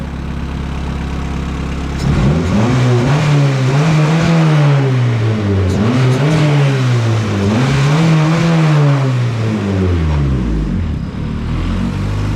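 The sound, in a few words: Honda CRX engine revving to bleed coolant bubbles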